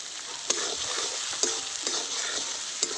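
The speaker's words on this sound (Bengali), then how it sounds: "এবার ভালো করে আমি কষিয়ে নেব" Spices with turmeric, salt and chopped tomato being stir-fried for a red rohu-style fish curry, steady frying hiss with regular spatula knocks against the pan about once a second.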